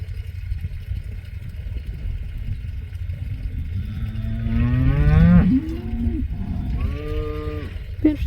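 Cattle on a ranch on a controlled-burn day low and moo loudly and close, with several drawn-out calls overlapping above a low background rumble and no talk.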